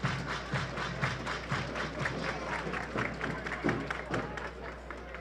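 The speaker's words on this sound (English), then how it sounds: "Everybody clap your hands." A baseball crowd at an Idaho Falls Chukars versus Rocky Mountain Vibes game claps hands in a steady, rhythmic beat, dense and continuous throughout with a faint public-address voice in the mix.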